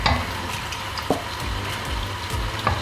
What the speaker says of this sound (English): So basically I'm going to just mix that into the marinated pan.